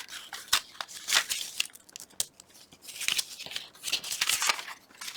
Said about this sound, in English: Guess I'm just going to go with tearing it by hand